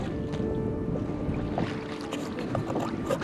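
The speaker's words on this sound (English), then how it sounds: "we've got another gale going on" Gale-force gusts of 50 to 55 mph buffet a 32-foot Ericsson sailboat tied up in a marina, a loud continuous rushing wind with scattered knocks and rattles from the hull and rigging.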